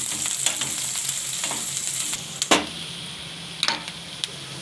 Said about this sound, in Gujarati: તો હવે આપણે એમાં મરચાં નાખી દઈશું. એકાદી મિનિટ આપણે મરચાંને શેરવી દઈશું સરસથી.